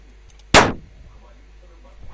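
A single sharp shot cracks out during a castle battle in a Minecraft mini-game, one loud abrupt blast that quickly decays, with quiet game ambience before and after.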